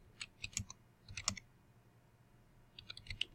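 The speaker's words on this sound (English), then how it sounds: "With this keyboard." Computer keyboard typing in short clustered bursts of crisp key clicks, a few quick strokes, a pause, then another flurry, close and moderately loud with no talking.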